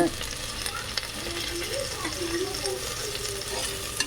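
Coriander leaves sizzle in a pan of tomato rice as they are sautéed, with a continuous frying hiss and soft scraping from a stirring spoon.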